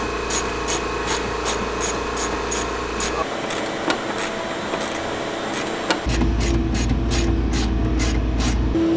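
A power tool runs steadily while backing out Torx bolts from the inner fender well of a Lamborghini Huracan, a continuous close whine with a rhythmic rattling pulse that drops in pitch midway and then rises again.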